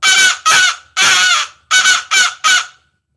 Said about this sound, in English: You got a pretty good crow call.